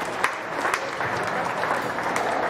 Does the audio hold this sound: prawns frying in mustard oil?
no